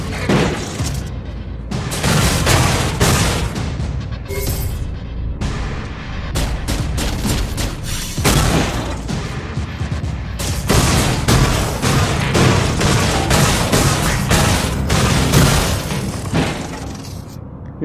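Rapid semi-automatic gunfire from The Fall video game, a dense run of loud, sharp repeated shots with shattering impacts filling the whole stretch without pause.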